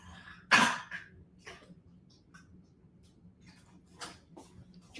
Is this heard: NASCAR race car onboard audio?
no